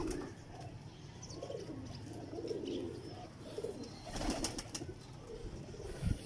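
A pair of Teddy pigeons, a male and a female, coo nearby in soft, repeated throaty rolls, with some faint chirps and rustling in the background.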